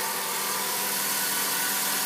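A 2012 Ford Focus SE engine idles steadily and loudly while warming up after an oil change, a constant dense rumble with no breaks or talking throughout.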